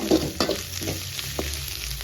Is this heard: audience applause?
no